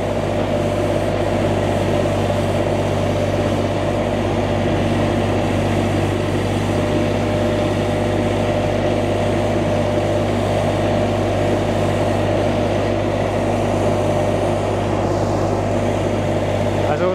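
A Jansen WKB 70 weed brush runs its engine continuously for the whole stretch, a loud, steady, droning roar with no clear rise or fall in pitch.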